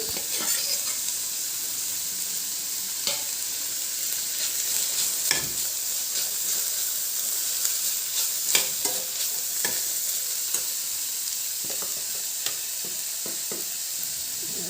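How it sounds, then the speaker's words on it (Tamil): Carrots and beans sautéing in a pan make a constant, close sizzle and hiss, with occasional light scrapes of a spoon stirring the vegetables. "கேரட்டு பீன்ஸு அதையும் போட்டு வதக்கிக்கலாம் வதக்கும் போதே நல்லா வெந்துடும்"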